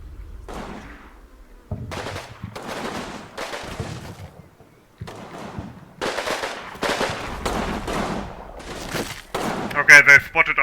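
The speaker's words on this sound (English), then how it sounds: "Okay, the Italians and Americans are now shooting back" Italian and American troops firing in Combat Mission, bursts of rifle and machine-gun fire in irregular clusters with pauses between, growing denser toward the end, mixed with faint voice-like sounds.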